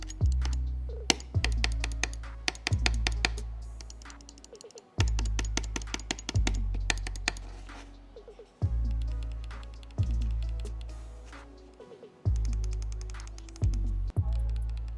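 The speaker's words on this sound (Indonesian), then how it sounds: "berikut ini merupakan contoh suara dari mouse ROG Strix Impact 2" Crisp button clicks from an Asus ROG Strix Impact II gaming mouse come in quick bursts, several rapid taps then a pause, repeating in a steady pattern close up with no voices.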